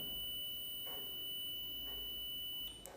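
A multimeter continuity buzzer sounds a steady, thin, high-pitched tone while probes test an AC compressor, holding continuously under faint background hiss before stopping near the end.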